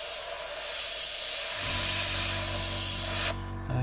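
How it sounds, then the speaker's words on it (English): A steady airbrush hiss sprays paint continuously around the windows of a 1/48 Italeri Seahawk model, with a low compressor hum joining partway through before the spray cuts off near the end. "spray around those like that"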